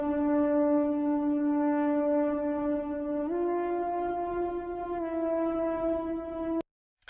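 A dry synthesizer lead with all plugins and the send switched off holds a steady, buzzy harmonic tone, stepping up in pitch twice before cutting off abruptly near the end, loud and alone.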